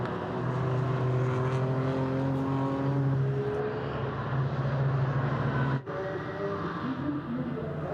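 A BMW GT race car of FK Performance Motorsport passes through the fast section of the Nürburgring Grand Prix circuit during a 12-hour race, engine note droning loudly with shifting tones before a brief gear-change dip and continuing.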